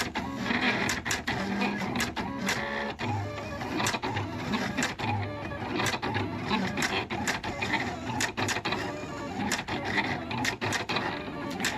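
A Silhouette Cameo 3 cutting machine drives its blade through material, giving a steady close mechanical whir with dense rapid clicks and ticks throughout, no voice over it.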